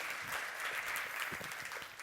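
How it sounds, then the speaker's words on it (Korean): An audience at a software conference keynote claps after a live demo, a soft, fairly distant patter of many hands that holds steady briefly, with no speech over it. "지금까지 데모를 준비해 주신 정재영 씨께 박수 한번 부탁드리고요."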